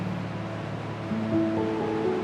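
Ocean waves wash onto a white sand beach at Diveagar as a steady broadband surge, moderately loud, with a faint tonal hum running underneath and no voices.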